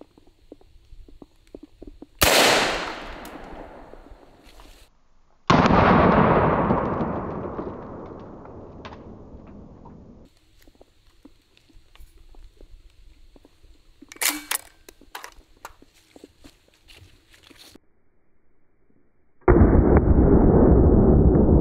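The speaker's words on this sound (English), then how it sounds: "we'll shoot one more at our ballistic dummy head from 7 yards away" A golf ball cannon fires at a ballistic dummy head from 7 yards, a loud sharp blast followed by a long decaying boom, then a second heavy bang with rumbling tail, later crackling impacts and a final loud burst, no talk.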